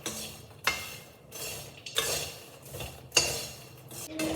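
Spicy makhana (fox nuts) being mixed and roasted in a pan, a spoon scraping and clinking against the metal in several distinct strokes with quiet gaps between, close and fairly crisp.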